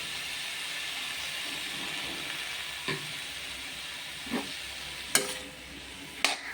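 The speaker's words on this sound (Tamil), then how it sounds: "இது லேசாக வதங்கட்டும்." Vegetables with soy sauce sautéing gently in a pan, a soft steady hiss under a few scattered spoon taps and scrapes, with a sharper clink near the end.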